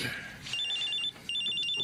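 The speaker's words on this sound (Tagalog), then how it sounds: "Oh, may tumatawag sa cellphone mo." A mobile phone rings with an electronic ringtone, two bursts of fast, high chirping beeps separated by a short pause, heard indoors over faint background noise.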